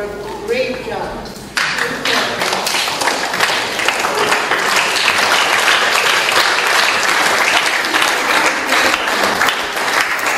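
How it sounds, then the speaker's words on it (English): Big round of applause from a crowd at a high school graduation ceremony at Ohwa Christian Academy, loud, dense clapping that bursts in after a short stretch of speech and carries on steadily, with scattered sharper claps near by. "let's give them a big round of applause for a great job"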